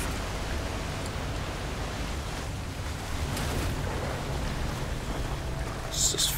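Steady broadband rush of a small waterfall in the video game Crysis 3, a constant even hiss of falling water that stays level throughout with no voices over it.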